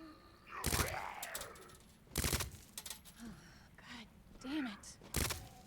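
Sharp, loud gunshots in the Resident Evil 2 video game ring out one at a time at uneven intervals, with creature groans and game sounds filling the gaps.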